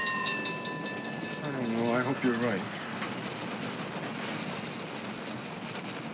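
A moving train with rolling railroad cars gives a steady, close rumble and hiss throughout, while people talk over it.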